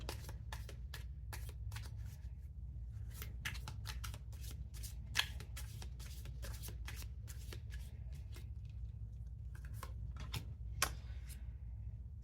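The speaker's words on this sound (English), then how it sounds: "Let's pull a card from the Love Messages Oracle deck for you, Gemini, to finish up your reading." Oracle card deck being shuffled by hand, a steady run of crisp riffling and flicking card sounds over a low background hum, continuing throughout with no talking.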